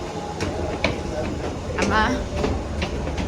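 A train moves through a busy station with rumbling wheels and a clatter of rail joints, while people talk nearby throughout.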